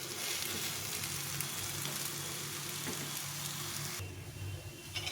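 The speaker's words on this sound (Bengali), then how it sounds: "যে কোনো কাবাব এরকম করে চেপে চেপে দিয়ে ভাজলে খেতেও ভালো লাগে" Pea kebabs pressed flat and shallow-frying in a pan give a continuous soft sizzle, moderately quiet and steady, with a slight drop in brightness near the end and no voices.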